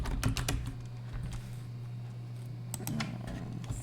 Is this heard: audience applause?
no